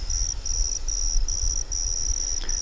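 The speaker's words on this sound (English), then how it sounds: "And I hear crickets." Crickets chirp steadily at daybreak near a large airport, in fast pulsing trains with brief gaps, over a low continuous rumble of distant outdoor noise.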